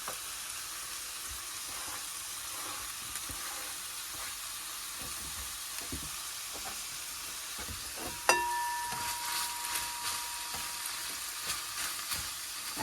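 Chopped onions sizzle and fry steadily in a pan for chili inside a truck camper, a soft hiss with occasional stirring scrapes and a louder clatter partway through.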